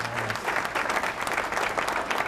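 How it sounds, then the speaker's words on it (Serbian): Sustained audience applause in a studio talk show, steady dense clapping at moderate loudness for the whole stretch, with no one speaking over it. "Evo, dobili smo aplauz."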